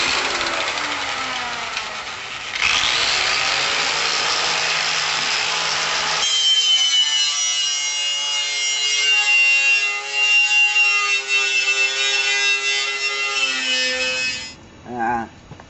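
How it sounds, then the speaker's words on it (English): A mini grinder works over a hot rod car part while it is ground down and prepped for paint, giving a loud, continuous whining rasp that shifts pitch as the tool bears down, steady for most of the stretch before cutting off near the end. "I'm grinding it down and prepping it"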